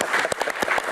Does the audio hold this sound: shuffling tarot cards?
no